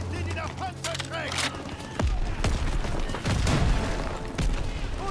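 Gunfire in the World War II shooter Call of Duty: WWII, with heavy booming shots and explosions over a noisy battle, close and loud, with a voice talking over the game.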